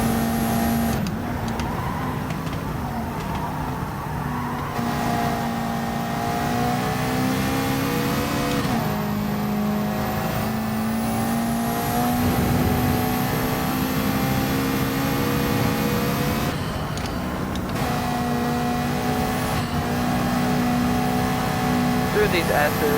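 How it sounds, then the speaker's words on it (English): A Ford Mustang engine revs and holds a steady, droning note in a racing video game, its pitch sweeping up and down through gear changes, loud and continuous, with a voice talking over it. "Here comes this Mustang here"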